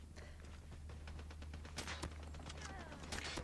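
Rapid gunfire in Call of Duty Mobile, a steady stream of fairly quiet shots over a constant low hum, with a few louder cracks near the end.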